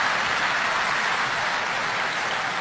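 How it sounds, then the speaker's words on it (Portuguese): A church congregation at an ADVEC service applauds, producing a continuous, even roar of many hands clapping at fairly high loudness for the whole stretch, with no pauses. "Uma salva de palmas para a Daiane."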